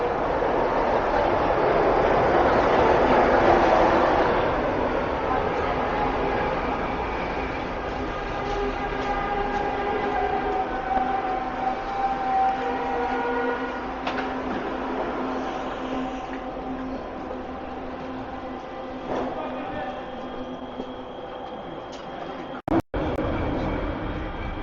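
A train arrives in downtown Vancouver with a sustained rumble and squealing tonal whine from the wheels that swells and slowly settles, heard at moderate distance with faint street background.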